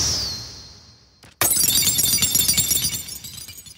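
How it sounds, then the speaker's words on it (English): A glass break sound effect from Xenogears: a bright sustained tone fades, then a sudden loud shatter bursts in and tinkling fragments ring on and slowly die away. "And then it does the glass break sound effect from Old Mason's Omen when he dropped the glass."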